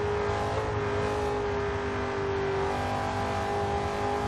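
A 2009 Chevrolet Corvette engine drones steadily from the Forza Horizon 2 racing game, a continuous loud mechanical hum with a slight pitch rise, no talking over it.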